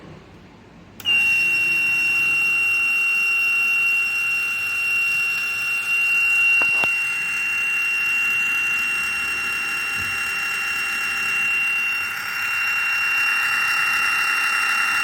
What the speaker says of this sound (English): The buzzer and the bulb both were powered.